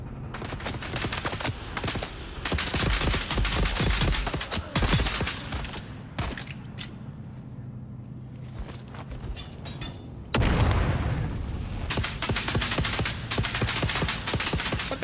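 A grenade goes off in the Dune: Awakening video game amid rapid bursts of gunfire, loud clustered shots and booms with a quieter lull in the middle before heavy firing resumes.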